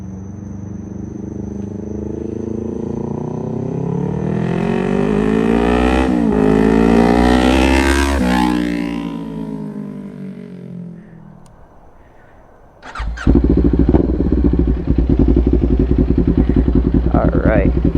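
A 2021 Kawasaki Z400 motorcycle with a Hindle performance exhaust revs up loud and close, then pulls away and fades into the distance before a loud, rough, steady engine rumble takes over nearby, with people talking over it.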